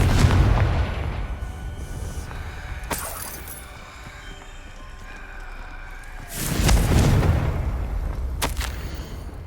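Confringo fire spells in Hogwarts Legacy burst in loud booming blasts, one heavy explosion at the start and another about two-thirds through, with rumbling and crackling debris between them and no voices.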